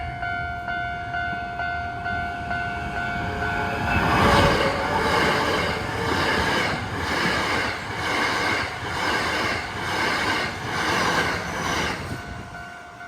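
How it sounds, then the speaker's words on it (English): A train rolls past on the line between Okamachi and Toyonaka toward Juso, a steady rumbling build with rhythmic wheel clatter over rail joints repeating about once a second, loud and close, with a faint tonal hum beneath. "Here comes the train"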